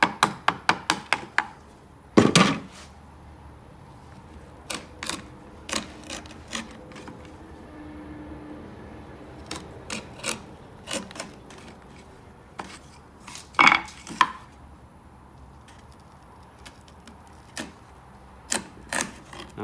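Soft cedar wood chopped out by hand with a chisel and mallet: sharp, close, irregular knocks, some in quick clusters and others spaced a second or more apart, with faint scraping between strikes.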